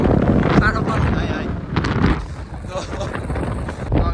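Gusty cold wind buffets the microphone in a steady roar near Baregaon Waterfall, with a few voices and passing movement underneath.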